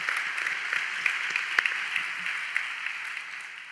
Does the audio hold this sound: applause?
yes